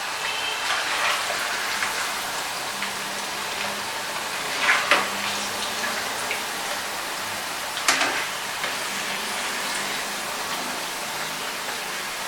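Chicken pieces frying in oil in a pan, giving a steady, close, rain-like sizzle throughout with a couple of brief clinks or stirring sounds partway through.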